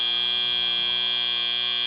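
A steady, loud end-of-match buzzer at a 2016 robotics competition event holds one unbroken electronic tone for the whole stretch, with no talking over it.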